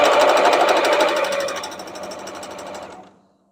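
A sewing machine stitches a quilt block along a drawn line, a loud rapid mechanical rattle of needle strokes close by that slows and fades out over about three seconds.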